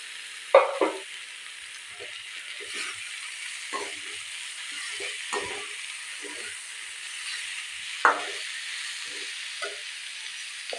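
Chopped snake gourd frying in a pan, giving a steady soft sizzle broken by scattered stirring clinks and scrapes, close and fairly quiet, with no talking.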